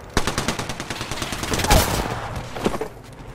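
Enemy gunfire in a shooter video game, rapid bursts of automatic shots and a few heavier single cracks, loud and close, with one bigger impact near the middle.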